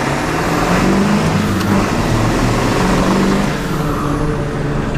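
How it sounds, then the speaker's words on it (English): Ford Super Duty pickup with a 4-inch straight pipe drones steadily at cruising speed, a continuous loud engine and road roar with a faint high turbo whistle riding over it, no voices. "You can hear the turbo a lot more."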